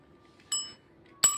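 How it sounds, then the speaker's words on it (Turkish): Two bright rings of a small bell in a children's guessing game at home, each a sharp strike with a short ringing tail, about 0.7 seconds apart and close by. "Zil. Zil."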